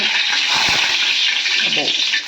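Minapa vadiyalu, sun-dried black gram dumplings, fry in hot oil with a steady, close hiss and crackle throughout.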